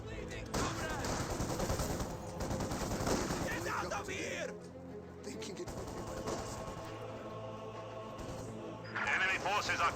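Close-range infantry gunfire from Volksgrenadiers and conscripts in Company of Heroes 2, rattling bursts and shots running throughout under a commentator's steady talk, with a slightly quieter stretch midway.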